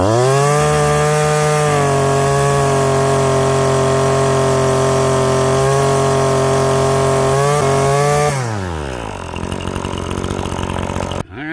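A string trimmer's two-stroke engine screams steadily at wide-open throttle, loud and close, holding a high whine for about eight seconds before dropping sharply to a rough, lower idle.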